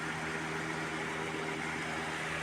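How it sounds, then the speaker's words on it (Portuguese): Fiat Uno engine idling with an internal noise, a steady low droning hum with faint tonal whine, close and unbroken throughout. "Mas o motor tem barulho aí"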